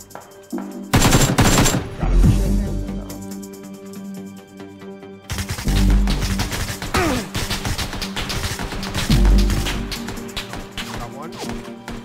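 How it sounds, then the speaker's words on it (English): PUBG battle royale gunfire, loud and close, in rapid automatic bursts and single cracks across the whole stretch, with brief lulls between volleys and players talking over it. "he's taking shots at me"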